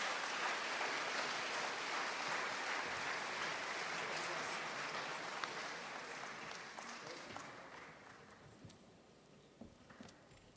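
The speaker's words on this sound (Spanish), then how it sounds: "vamos a recibirlo con un fuerte aplauso" A crowd gives loud, dense applause to welcome a speaker. The clapping is a thick wash that slowly thins, leaving a few scattered claps near the end.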